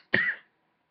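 A single short, sharp cough, close and fairly loud, then silence.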